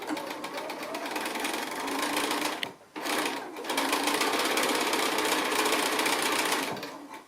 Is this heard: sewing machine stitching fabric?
yes